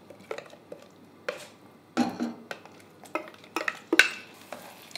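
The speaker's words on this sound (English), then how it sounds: "All the paste from here to the pan." Rendang spice paste scraped with a utensil into a saucepan of oil for beef rendang: a series of short, close scrapes and clinks against the pan in uneven bursts, with faint frying beneath and no talk.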